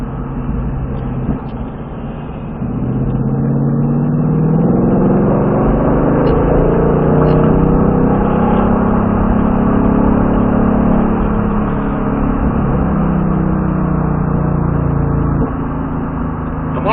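A Ford Mustang Dark Horse laps a race track, its engine droning loud and steady from inside the car, rising and falling in pitch through the gears and corners, with no one speaking.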